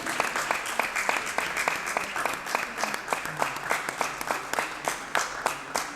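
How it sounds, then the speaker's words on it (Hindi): Steady audience applause at a certificate ceremony for a Marma science and therapy training programme, with rhythmic, evenly spaced claps that sound like a crowd clapping in unison and continue throughout at moderate loudness. "आई रिक्वेस्ट एवरीवन, ताली तो दबाते रहिए प्लीज।"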